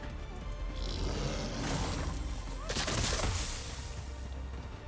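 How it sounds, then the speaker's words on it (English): Ocedon creatures shooting ice in a video game make a sustained hissing, noisy blast that swells and then surges sharply near the middle before fading, heard over a continuous rumbling game background. "I think initially we'll attempt to shoot some ice in each direction."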